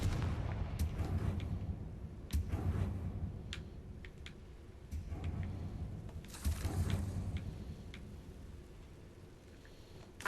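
A Confringo blasting spell goes off in the video game Hogwarts Legacy, with several booming explosive bursts and crackling impacts rising over a steady rumbling game soundscape, loud and close.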